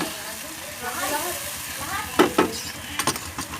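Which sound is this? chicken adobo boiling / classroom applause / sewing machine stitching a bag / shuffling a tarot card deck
chicken adobo boiling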